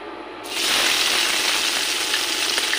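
Oil sizzles in a wok (karai) on the stove. After a quiet first half-second, a loud, steady frying hiss bursts in and holds close and even to the end.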